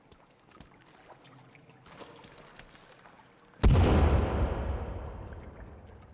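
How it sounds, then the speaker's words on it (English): A thrown grenade detonates in the survival game Sons of the Forest: after scattered faint clicks and ambient game noise, a single loud, sudden blast erupts and rumbles away slowly over several seconds. "let's go ahead and throw another grenade"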